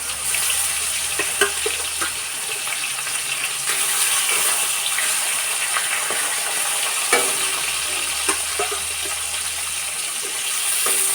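Steady crackling sizzle of fish frying in hot oil, with occasional clinks and spatters; no talking.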